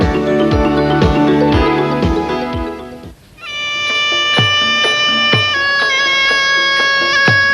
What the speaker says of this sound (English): the noise you're hearing is the live orchestra of the Muay Thai